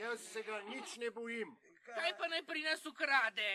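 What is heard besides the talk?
No everyday noises stand out.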